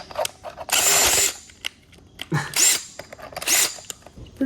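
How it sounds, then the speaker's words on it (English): An electric drill spins the oil pump of an AMC 401 V8 to prime the engine, giving three separate whirring bursts with short, quiet pauses between them, close and loud. "Put a drill on it and see if it works."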